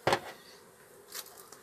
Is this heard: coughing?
no